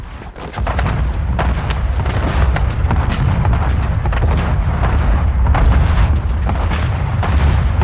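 Dense, continuous bursts of gunfire and booming blasts in Black Ops 6 Warzone, loud and close, rolling on throughout with no pauses.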